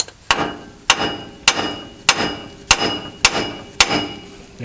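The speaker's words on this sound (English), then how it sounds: "you're going to want to get a sledgehammer, smack this portion here to get this loosened up." A sledgehammer pounds a front suspension part on a 2017 Ram 1500 4x4 during a Belltech 2/4 drop kit install. Seven loud, sharp metallic blows land at an even pace, each ringing briefly, with no talk.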